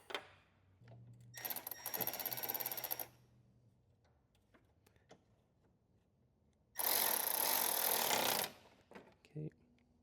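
Work on a Jaguar XJ part: two loud bursts of a power tool buzzing, each a few seconds long, with faint clicks and handling noises between them.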